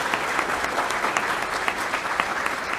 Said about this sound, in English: we'd all like to give DARPA a round of applause.